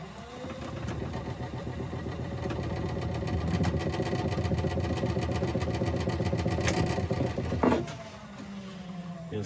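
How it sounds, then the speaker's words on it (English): Wood lathe spinning an unbalanced olive ash blank at low speed, a steady rumbling motor hum with a rhythmic wobbling thump that drops off near the end. "I'll turn the lathe right down."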